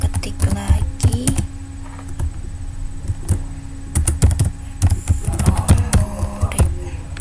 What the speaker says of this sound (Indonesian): Nah habis itu kita ketik lagi